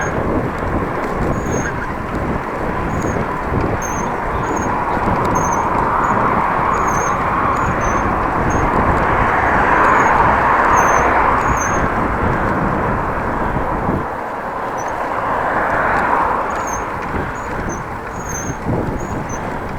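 Headwind on a bike ride between Groningen and Appingedam in the Netherlands, heard as steady loud wind buffeting the microphone, rising and falling in gusts throughout with faint high squeaks.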